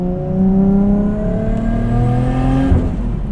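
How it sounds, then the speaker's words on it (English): A tuned R33 Skyline with a 600 hp RB25 NEO engine and turbo, running steadily and loud with a rising whine and rumble, held alone with no talk. "There's the turbo."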